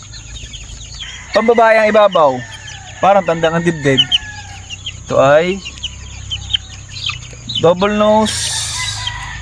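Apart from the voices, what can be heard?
chicken clucking and rooster crowing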